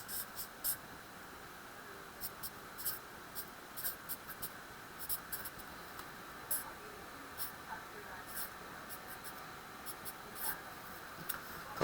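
A pen scratches on a writing surface while molecules are drawn, in faint short strokes and taps spread irregularly across a quiet room.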